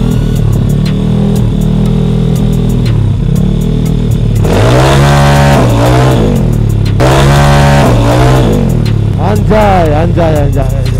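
A full-race-spec motorcycle engine revs hard during a test ride, loud and close, climbing and dropping in pitch in two strong bursts over a constant heavy drone, with a voice speaking over it.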